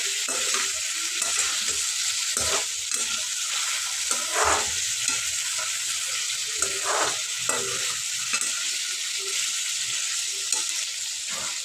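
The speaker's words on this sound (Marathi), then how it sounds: "बारीक गॅसवरच हे भाजून घ्यायचं आहे म्हणजे सर्व व्यवस्थित भाजतं" Tomato chutney ingredients dry-roasting in a pan over a low flame give a steady close sizzle, with soft scraping stirs recurring every second or two and no talk.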